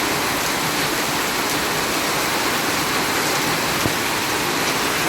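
Torrential monsoon rain falls near a home where water has flooded the surroundings, a loud, even roar of drops with no pause, one faint tap standing out near the end.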